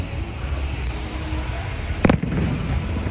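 A single firework explodes with one sharp, loud crack about two-thirds of the way through, standing out above a steady, low outdoor rumble of background noise.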